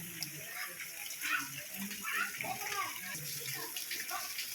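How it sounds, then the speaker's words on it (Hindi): Supply water pours steadily from an open tap in a village courtyard, a continuous splashing rush, with faint voices in the background. "सप्लाई का पानी आया, देखो टोटी खुला है"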